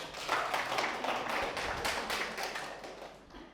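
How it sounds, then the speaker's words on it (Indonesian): A church congregation clapping hands during a sermon, a burst of overlapping claps that rises quickly and then slowly fades, moderately faint and heard from within the room. "Kasih tepuk tangan dulu dong."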